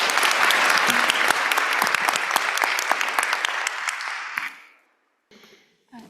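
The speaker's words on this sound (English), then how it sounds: "If we could give our panelists another round of applause." An audience gives panelists a round of applause after a Q&A on an equitable energy transition at a law journal event, a lively burst of many hands with crisp individual claps that fades out, then brief sounds after a pause.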